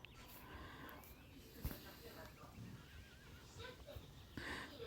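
A horse neighs and whinnies in a video game, with faint hoof clip-clops and a person speaking quietly over the game sounds.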